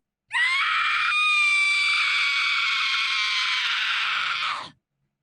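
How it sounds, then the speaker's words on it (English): Arya's blood-curdling death scream from the Ulduar raid in World of Warcraft, one loud, sustained, high-pitched shriek of about four seconds that ends abruptly, heard alone without talk. "So Ulduar, did you include Arya's death sound?"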